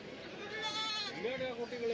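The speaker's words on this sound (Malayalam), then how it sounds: "ചന്തയിൽ ഇഷ്ടംപോലെ വലിയ ആടുകൾ വന്നിട്ടുണ്ട്" Goats at a busy Eid festival goat market in Kerala, including big billy goats, give a wavering bleat under a crowd's chatter and voices talking nearby.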